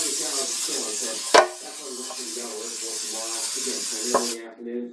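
Vegetable oil spray hissing and sizzling into a hot non-stick pan, a steady broadband sizzle with a couple of sharp clinks or pops, while a person talks over it before the spray cuts off near the end.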